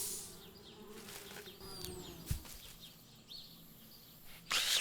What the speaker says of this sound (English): That is not how you keep bees around, but sure, I'll take it.